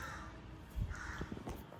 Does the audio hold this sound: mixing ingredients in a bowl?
no